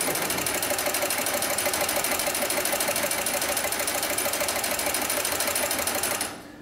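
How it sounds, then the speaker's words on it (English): A specialised industrial sewing machine stitches lifting sling webbing in a steady, loud, rapid mechanical rhythm that runs continuously before stopping abruptly near the end. "And again in reverse. And now we'll sew forward again."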